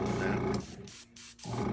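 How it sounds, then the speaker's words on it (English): Broad hissing air noise from a compressor during spray painting of a model, fairly faint, cutting in and out in bursts. "Sorry for the compressor noise."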